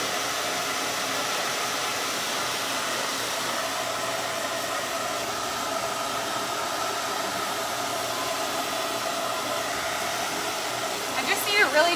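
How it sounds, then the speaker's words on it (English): A hair dryer used to dry acrylic paint on a baseball gnome yard art piece blows as a steady, loud broadband whoosh, continuous throughout with a brief clatter near the end. "I know the blow dryer is really annoying"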